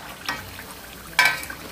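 Potato tacos dorados frying in oil over moderate heat, a faint sizzle under two brief scraping clatters as the tacos are turned, close by and quiet.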